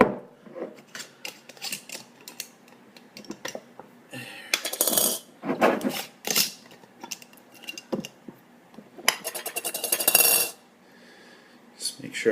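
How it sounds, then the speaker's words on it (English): Metal utensil scraping and clinking against glass jars while stirring settled yeast slurry loose from the bottoms during homebrewing, with bursts of rattling and rasping stirs between quieter moments. "I just want to stir these other two around and get all that yeast slurry loosened up off the bottom"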